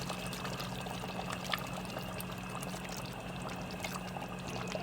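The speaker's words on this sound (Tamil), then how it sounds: "தேவையான அளவுக்கு தண்ணி ஊற்றிக்கங்க." Water poured steadily into a cooking mixture, a faint continuous splashing trickle with no speech.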